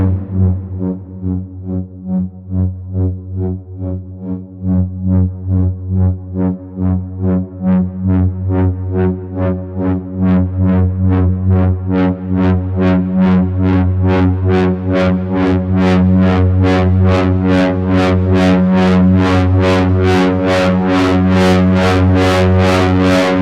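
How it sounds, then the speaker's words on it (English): Synthesized sonification of a hydrogen atom: a droning electronic tone overlaid with pulsing tones that climb steadily in pitch and quicken into a dense, shimmering stream, with no talk. "This is the sound of a hydrogen atom."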